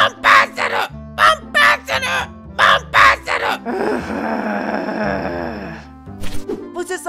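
A bird gives a series of loud, rhythmic cawing calls in quick bursts, then a longer rasping squawk, close and clear with no talking.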